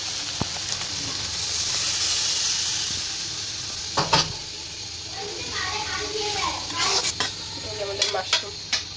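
Water poured into a hot pan of frying oyster mushrooms sets off a loud, steady hiss and sizzle, followed by bubbling and a few sharp clinks of a utensil against the pan.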